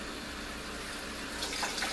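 Warm water runs steadily from a tap, a soft continuous hiss and splash with no break, fairly quiet and alone.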